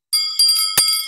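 A bright, high-pitched bell rings three times in quick succession, each strike sharp and ringing on with a shimmering decay in a quiet room.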